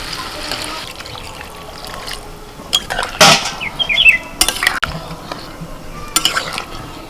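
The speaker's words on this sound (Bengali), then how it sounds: "এবার আমি জল দিয়ে দিচ্ছি।" Water is poured from a mug into a pot of rice and soybeans for pulao, a soft splashing under sharp metallic clanks of the mug against the pot, near and fairly loud.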